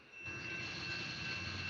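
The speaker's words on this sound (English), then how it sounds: "A train is going by" A train rumbles past nearby, a steady broad roar with a faint high steel whine running through it, loud and continuous without a break.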